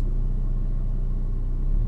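A manual-transmission car engine given a little gas by a learner driver produces a steady, close, low rumble throughout, with no sharp rise in revs.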